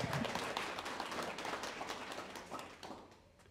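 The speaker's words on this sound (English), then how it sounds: "How about a round of applause for Dan Martin" Audience applause at a hall of fame ceremony, dense broadband clapping from a room of people that stays steady and then thins toward the end, with no talk over it.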